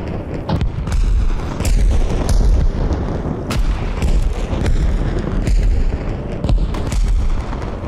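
Heavy gunfire roars through a battle in Arma Reforger, with dense, loud volleys of shots and booming blasts, some close and some farther off, sounding almost without pause and without speech.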